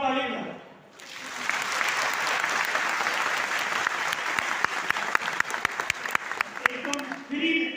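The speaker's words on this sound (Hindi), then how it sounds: "एक बार ताली बजाओ।" An audience at a business seminar in Lucknow breaks into sustained applause after a brief voice, with loud, dense clapping and a few sharper individual claps near the end.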